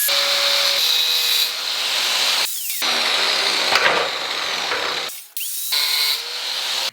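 Hand-sawing through an aluminum tube piece on a cargo bike build, close and loud, in steady rasping strokes with two short pauses, ending abruptly.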